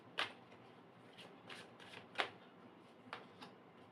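Tarot cards drawn and shuffled during a love reading, a handful of crisp, faint card flicks and snaps spaced irregularly in a quiet room.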